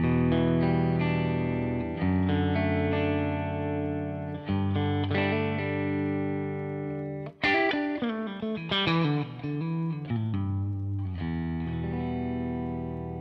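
Electric guitar through a Two-Rock Classic Reverb Signature amp plays sustained chords and melodic runs with a warm, slightly driven tone and reverb tail, loud and continuous without talking.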